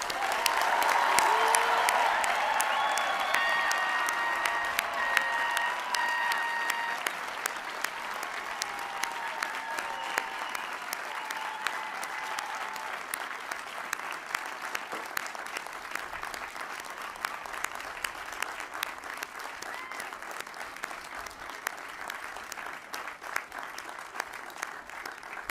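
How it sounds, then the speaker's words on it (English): A large crowd at a college commencement ceremony applauds the new graduates. The clapping starts loud and dense, then stays steady and slowly thins over about twenty-five seconds. "Please join me in a round of applause for these new graduates."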